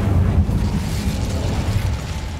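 Spell explosions in the game Hogwarts Legacy, a continuous loud booming blast with deep rumbling low end that holds steady, no talk over it.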